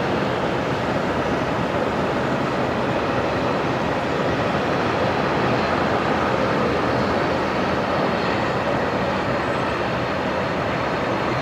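A jet aircraft taking off from runway 19 at Brisbane Airport at night, heard as a steady, loud, broadband engine roar that holds unbroken throughout with no voices over it.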